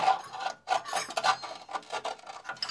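A screw holding the steering rack of a Renault Super 5 is worked loose with a hand tool, producing short repeated scraping and ratcheting rasps in an uneven rhythm at close range.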